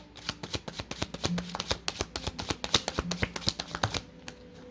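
A deck of oracle cards is shuffled by hand, a rapid run of crisp riffling slaps and flicks in uneven bursts, close and clear with no talking.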